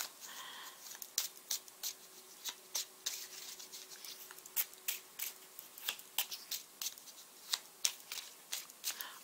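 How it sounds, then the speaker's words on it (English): Tarot cards shuffled by hand in quick, close riffling bursts that repeat steadily in rhythm, crisp and fairly quiet, with no talking over them. "let's pick clarifying cards"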